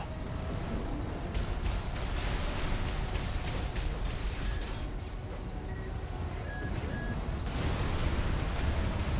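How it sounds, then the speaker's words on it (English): Heavy explosions and gunfire thunder on the ground during combat in the video game Armored Core VI, a continuous loud barrage of booms and mechanical clatter with occasional sharp electronic tones. "Use your mobility in the air to get clear of explosions on the ground."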